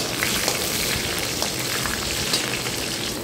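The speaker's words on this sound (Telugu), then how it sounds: "ఇప్పుడు ఉల్లిపాయలు, ఎండుమిరపకాయలు, పచ్చిమిర్చి 3 వేసేసి వేగనివ్వాలన్నమాట." Onions with green and dried red chillies fry in hot oil, a steady dense sizzle and crackle running unbroken at even loudness throughout, close and alone with no voices.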